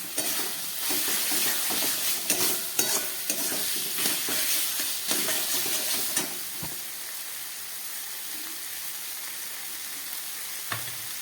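Fried potatoes and capsicum for an oyster mushroom dish are stirred into sizzling spices in a pan, with busy spatula clatter and scraping at first, then a steadier hiss with only occasional knocks.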